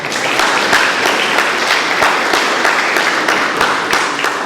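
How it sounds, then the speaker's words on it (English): A conference crowd gives a round of applause, loud sustained clapping from many people with a few sharper individual claps standing out over the steady wash. "a round of applause for all of them"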